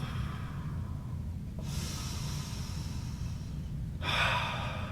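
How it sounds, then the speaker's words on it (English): Two deep breaths during an exercise routine, each a long, rushing airy breath, the second stronger and fuller as it pushes the air fully out, with quiet pauses between them. "Inhale. Full exhale."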